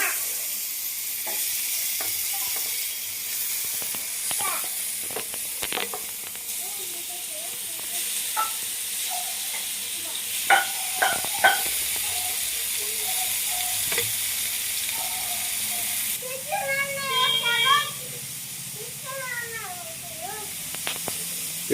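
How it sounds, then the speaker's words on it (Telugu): Paneer frying in oil on a flat pan, a constant close sizzle and hiss throughout with occasional clinks and scraping of a utensil, bubbling crackles rising near the end. "పెనం మీద అయితే ఆయిల్ అయితే పోసేసాను. పన్నీర్ అనేది బాగా ఫ్రై చేసేసుకుందాం."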